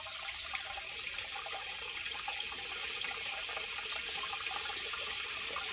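Steady rush of water flowing through an opened valve feeding a cattle-shed water tank, continuous and fairly even with a gurgling hiss throughout, no voices.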